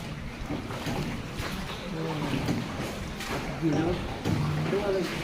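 Boat ride along the Sao Khe river through rice fields in Trang An, Ninh Binh, Vietnam, with a steady wash of water and wind noise throughout and voices talking over it.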